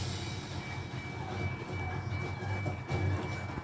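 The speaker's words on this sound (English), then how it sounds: "Oh, train coming." A train approaching, heard as a faint, low rumble with some rail clatter, steady for a few seconds.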